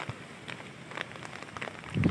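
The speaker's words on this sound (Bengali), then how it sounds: "খুব ভালো বৃষ্টি পড়ছে" Steady patter of rain falling on farmland during a storm, with scattered louder drops and a low rumble toward the end.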